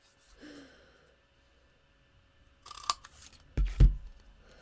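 Scissors snipping paper during card making, trimming a banner end: a couple of quick, close cuts near the end after a faint rustle, with quiet room tone between.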